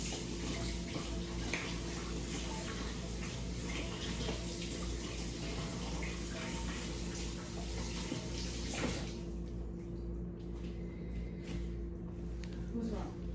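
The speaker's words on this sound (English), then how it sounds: "I'm about to wash my hands off." A tap runs steadily over hands being washed in a home kitchen, a constant close-up rush of water that goes on without a break.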